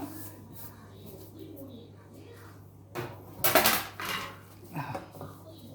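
A metal baking tray is handled in a kitchen while pizza is prepared, giving a few clattering metallic knocks and scrapes under light background noise and a voice.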